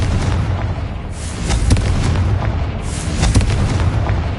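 In a Hogwarts video game, the Confringo explosion spell goes off in a run of loud, booming blasts and bursts, layered over a continuous rumbling backdrop.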